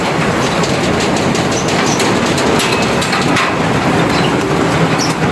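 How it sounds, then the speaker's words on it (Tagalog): Heavy rain pours down outdoors, a loud, steady broadband wash of water with no pauses, dense and continuous across the whole stretch, with no voices heard. "Ayan, lakas ng ulan na."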